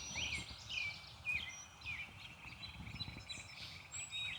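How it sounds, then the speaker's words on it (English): Faint birdsong drifts in from a distance on a misty city morning in a garden, with scattered chirps and whistles over a quiet low rumble of background noise. "I'm hoping you can hear the birds."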